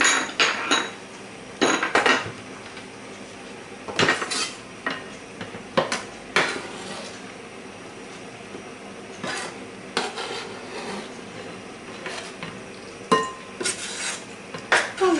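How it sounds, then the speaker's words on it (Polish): Utensils clink and knock against a bowl as herring, onion and garlic are stirred into a vinaigrette sauce, with irregular sharp taps and scrapes between quieter mixing sounds and no talk. "I przełożymy do przygotowanego sosu cebulę, czosnek i śledzie."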